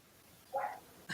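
A small dog outdoors gives one faint, distant yelping bark, then a brief second yelp a moment later, over quiet background hiss.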